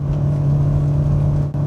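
The V8 engine of a 1979 Aston Martin Oscar India pulls at around 2,000 rpm, heard from inside as a loud, steady low drone with a constant hum and no voices.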